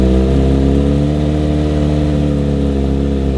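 A Kawasaki Z9 motorcycle fitted with an Austin Racing exhaust idles loudly on a cold start, a close, continuous deep burble with slight rev variations and no talk.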